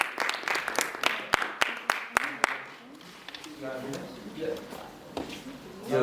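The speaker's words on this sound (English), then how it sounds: "Let's also give another round of applause" A small audience at a MISx student talk gives a few seconds of scattered clapping that quickly fades, followed by a person speaking.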